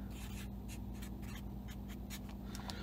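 A pen scratches out handwritten notes close by while someone fixes a hoverboard, making short, irregular strokes over a low steady hum, quiet and with no talk.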